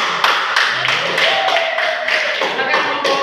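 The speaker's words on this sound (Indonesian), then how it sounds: "Tepuk tangan." Classroom applause from students: a fairly loud burst of clapping that holds steady in a series of rhythmic pulses, with faint voices in the room.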